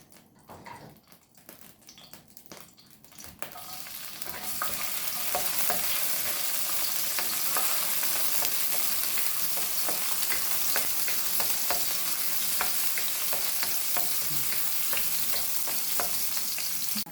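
Garlic sautés in a pan for pork kaldereta: after some light clinking, a loud, steady sizzle and fry rises and holds continuously, with occasional stirring clicks and scrapes.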